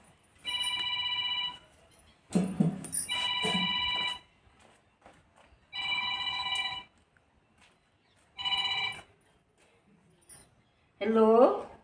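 A phone rings in a Haryanvi village comedy skit, sounding in repeated electronic bursts separated by short pauses. A voice is briefly heard near the end.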